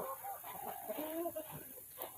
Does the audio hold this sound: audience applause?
no